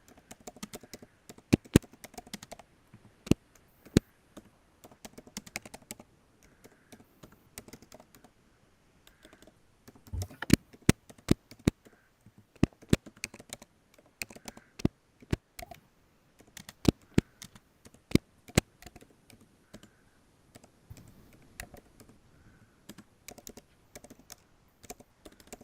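Keys clatter on a computer keyboard while code is typed, in irregular bursts of sharp clicks with short pauses, steady and close throughout, with no talking.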